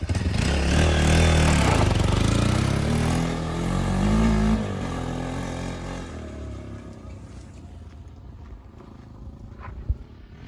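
Motorcycle engine revs loud and close for several seconds, its throaty roar holding steady, then fading away into quieter background noise with a brief knock near the end.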